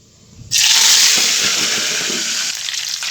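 Mint, curry leaves and coriander hit hot oil and sizzle loudly, a sudden bright crackling hiss that holds steady with occasional stirring.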